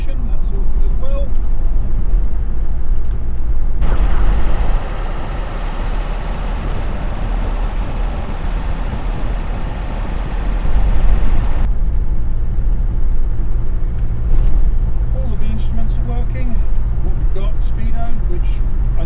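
Land Rover Defender 90 300TDi diesel engine droning steadily while driving, with a louder, rougher stretch midway as the throttle changes, under someone talking throughout.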